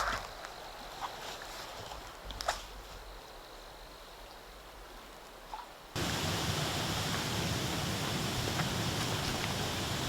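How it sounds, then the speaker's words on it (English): A waterfall on Maple Creek at the end of a portage, faint at first under light rustling, then a steady, broad rushing roar of falling water that fills the second half. "There's some nice falls."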